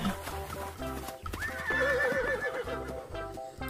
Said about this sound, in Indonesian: ternyata ada kuda